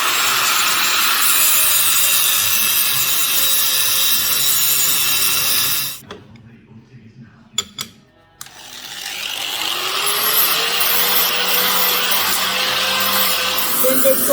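Metal tubing for a custom Harley-Davidson Shovelhead motorcycle rack is cut by a power tool, a loud continuous grinding whine that breaks off briefly with a few sharp knocks before resuming at full strength.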